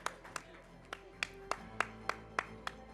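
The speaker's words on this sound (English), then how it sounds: "We should continue clapping, ladies and gentlemen." Audience at the UNAM Innovation Competition awards ceremony in 2025 clapping in a steady, evenly spaced rhythm, about three sharp claps per second, fairly faint and distant.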